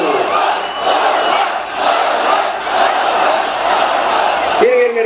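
A large crowd shouts and roars together in a sustained, loud collective cry at an actor's visit to Madurai, swelling and dipping before a voice cuts in at the end.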